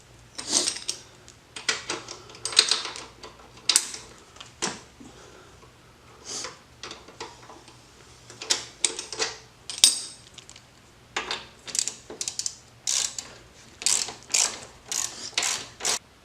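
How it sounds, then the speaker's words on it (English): A ratchet wrench loosens the 27mm axle bolt on a Yamaha Warrior 1700 motorcycle, with repeated bursts of sharp clicking strokes, close and crisp, separated by short pauses over a quiet background. "we're going to go ahead and loosen up our 27mm axle bolt and our 14mm brake caliper bracket bolt"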